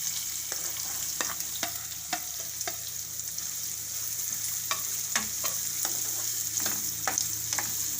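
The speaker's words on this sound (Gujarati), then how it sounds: "હવે આપણે આ ગાજર નાખી દેવું।" Carrots and chillies with asafoetida sizzle steadily in a pan while being stirred, with a run of sharp scraping clicks from the spoon against the pan, alone and close.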